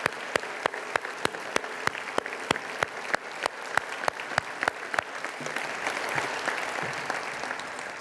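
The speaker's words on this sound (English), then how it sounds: "Let's give them a round of applause." An audience at a Cleveland State University address applauds a coaching team, opening with a few loud, sharp claps in a steady rhythm that thicken into a fuller, continuous round of clapping.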